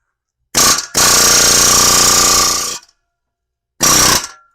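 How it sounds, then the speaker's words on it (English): Pneumatic air hammer working on the fan clutch of a 2000 Jeep TJ during a water pump replacement: a short burst, then a loud sustained rattling hammer for about two seconds, a pause, and another brief burst. "air hammer pneumatic fan clutch tool"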